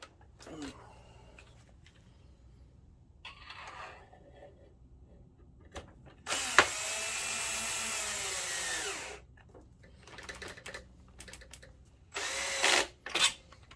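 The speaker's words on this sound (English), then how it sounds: "let me get the drill driver, because these screws will definitely hurt my hands if I try to put them in by hand" A cordless drill driver drives screws into an Optoma HD8600 DLP projector during repair, giving two loud whirring runs, one of about three seconds and a shorter one of about a second, close by with quiet handling noises between.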